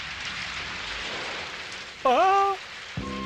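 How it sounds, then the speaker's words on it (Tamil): Rain falls steadily during a storm, a dense even hiss, briefly interrupted midway by a short rising tonal voice-like sound; no thunder stands out. "மழை பெய்ய ஆரம்பிச்சிருச்சு சார்."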